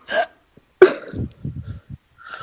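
Hiccup-like vocal sounds voiced by a person imitating a character hiccuping during a tabletop role-playing game, a few short abrupt gulps and squeaks in close, dry bursts.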